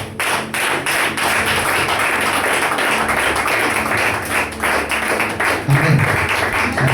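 A church congregation bursts into steady, sustained applause and acclaim for Jesus, a dense wash of clapping that fills the room throughout without pause.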